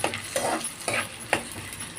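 Tempering spices fry in a pan for a ridge gourd stir-fry, with a soft ongoing sizzle and three spoon strokes stirring and scraping at a steady rhythm.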